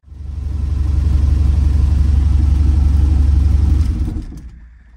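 Engine of a 1967 VW Type 3 Squareback driving, a loud steady low rumble close to the mic that holds for about four seconds and then fades.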